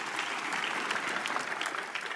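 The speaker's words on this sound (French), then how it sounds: "Alors applaudissez pour lui à nouveau." Dense audience applause fills a church service, a steady crackle of many hands clapping at moderate distance with no break, while faint talk sits underneath.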